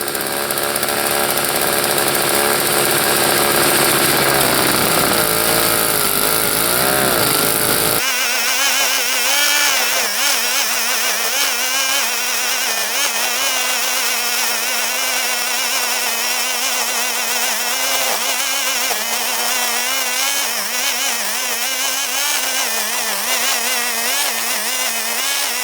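A tiny-engine snow blower runs over rough ground strewn with ice chunks and twigs, a loud, close, buzzing whine that shifts abruptly partway through, then holds steady and rough with no talking.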